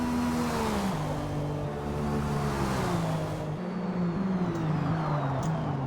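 Race car engines in a racing video game at Daytona, two machines roaring together as one overtakes the other, a loud sustained drone whose pitch slides down and climbs again, steady and close throughout.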